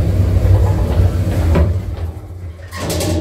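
Elevator doors slide shut in a Roblox game, a continuous mechanical rumble with a brief knock partway through, then a short quiet gap before the hum resumes.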